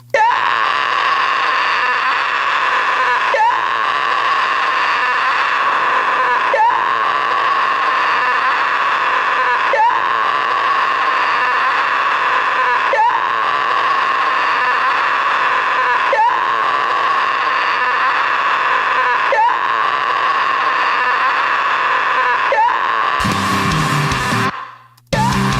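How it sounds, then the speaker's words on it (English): An electric guitar driven through an overdrive pedal gives loud, sustained wailing notes with a scream-like distorted edge. The notes repeat in similar phrases for about twenty seconds, then break into a brief burst of noise before cutting off. "Now for the overdrive pedal."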